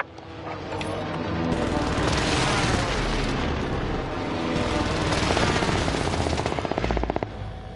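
Airstrike blasts and rapid gunfire in a PS4 shooter, a dense continuous barrage of booms and machine-gun bursts that builds through the clip, with a steady rattling stream of shots toward the end.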